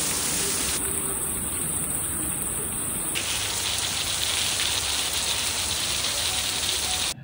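Heavy storm rain on Koh Samui pours down as a dense, loud, continuous hiss and roar of water, steady throughout with no voices, ending abruptly.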